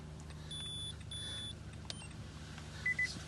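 A short electronic beep sounds inside a quiet 2014 Nissan Altima as it enters key-programming learning mode, followed by a pair of quick, faint chirps near the end, over a low hum.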